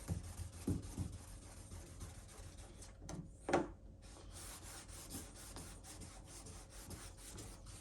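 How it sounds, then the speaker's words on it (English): Soft, intermittent rubbing and squeaking of a clay bar dragged across car paint to lift overspray, quiet strokes with a brief sharper scrape partway through, close and faint. "I'm using their clay, and I'm rubbing on this deal"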